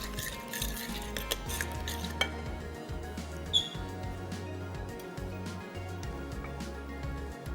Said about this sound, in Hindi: मसालों के अंदर इसमें पहले इसको अच्छे से करेंगे मिक्स